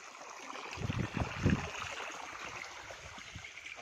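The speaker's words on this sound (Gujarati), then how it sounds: "આપણી નારડીમાં પાણી ચાલુ છે અટાણે" Water running from a pipe into a channel in a garden, a soft gurgling flow with a few low sloshing bursts early on, settling into a steady quiet trickle.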